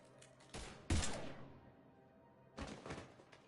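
Gunfire in the video game Mass Effect 3, a few sharp, heavy bursts of shots separated by short gaps, the loudest around the first second, then a final cluster near the end, fairly quiet overall.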